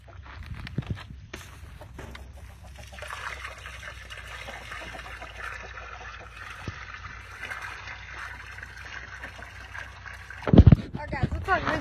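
Water is poured out for a flock of chickens, a steady trickling and splashing stream that runs for several seconds at moderate level, ending with a louder clatter.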